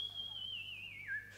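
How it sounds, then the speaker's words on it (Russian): A cartoon sonar making a whistling sound, a single sustained high tone that glides slowly downward and then drops to a lower pitch, heard alone over a faint low hum. "Да это его гидролокатор работает."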